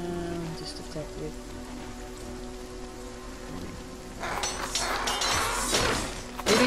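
Rain in the video game Victor Vran, a steady patter of drops on surfaces that grows louder and denser toward the end, with soft game tones underneath.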